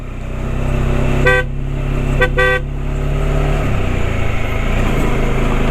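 A motorcycle horn sounds three times on a mountain road in the Cordillera, one toot then a quick double honk, loud above a constant engine rumble that shifts partway through.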